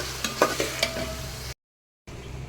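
Onion, tomato, green chilli, bay leaf and spices fry in a pan, a close crackling sizzle with stirring scrapes, briefly cutting to silence before the sizzle resumes.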